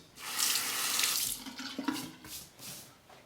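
Water runs from a tap as a shavette razor is rinsed, a close, steady splashing rush that briefly softens and shifts with the movement.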